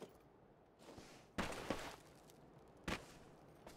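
Two or three sharp, distant gunshot bursts crack out irregularly over a quiet, low background hum, with no voices, from video game gunfire on the Erangel map.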